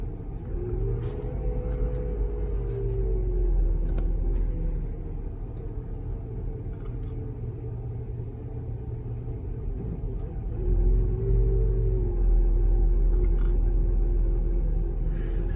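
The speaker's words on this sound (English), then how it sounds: "now we've achieved our idle" A 1993 Chevy Lumina APV engine idling with an idle air control problem, a low steady rumble whose pitch dips and rises as the idle settles, close and continuous.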